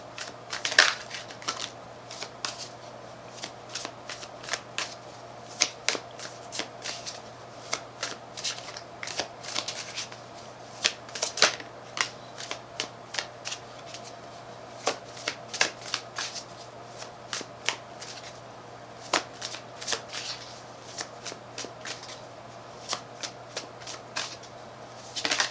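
Tarot cards are shuffled by hand in a quiet room, with repeated soft riffling and slapping bursts, close and fairly faint, continuing steadily throughout.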